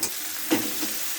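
A fish curry of small rohu with potatoes and salted tomatoes sizzles in a pan, with one firm scraping stir near the middle over a steady hiss.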